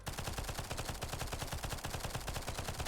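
Rapid, steady automatic gunfire from shooting in NIMRODS: GunCraft Survivor, a continuous close stream of evenly spaced shots heard alone without pause.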